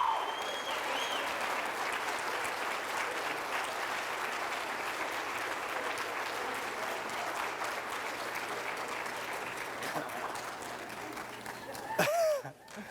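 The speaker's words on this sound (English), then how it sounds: "Please give a warm round of applause to our final member of the class of 2019, Cody Cope." Steady applause from a crowd at a high school hall of fame and award ceremony, sustained clapping that holds evenly for several seconds before trailing off near the end.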